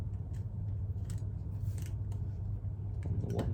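Scissors or hobby cutters snip plastic parts from a Tamiya 1/35 SAS Jeep model kit, giving a few faint, brief clicks and crunches over a steady low room hum.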